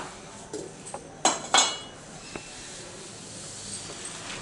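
A small pan set down on a stove, a few sharp metallic clanks and clinks bunched in the first two seconds, then a quiet background hiss.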